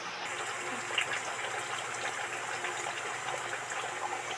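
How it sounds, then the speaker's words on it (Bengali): Water is poured into a pan of simmering Bengali chicken curry, giving a steady, soft gushing hiss that runs evenly throughout, fairly faint and close with no talking. "এবার জল দিয়ে দেব।"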